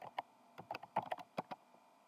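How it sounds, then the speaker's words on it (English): Keys clack on a computer keyboard at a Linux desktop lock screen: about a dozen light, close, separate presses in an irregular rhythm, with no talking. "You can also try the space from the keyboard."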